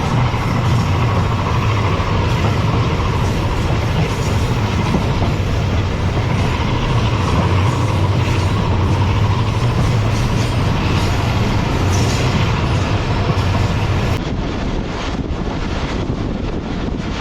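The Shalimar Express runs between Lahore and Sukkur on the main railway line, producing a loud, steady rumble of the carriage with constant wind buffeting near the microphone. The sound turns thinner and airier toward the end.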